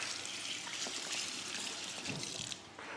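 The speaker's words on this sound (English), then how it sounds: "Right, I'm going to wash my hands." Tap water runs steadily from a kitchen faucet as hands are washed, a continuous trickling splash that holds even throughout before dropping slightly near the end, with no talking.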